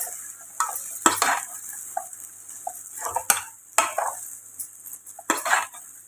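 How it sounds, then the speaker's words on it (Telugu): Chicken vermicelli stirred in a hot pan, with a metal utensil scraping and clanking against the pan in four or five firm strokes over a steady sizzle. "ఇప్పుడు మనము కింద నుంచి చికెన్ అనేది కలిసే విధంగా విడిపోకుండా సేమియా చక్కగా కలుపుకోవాలి."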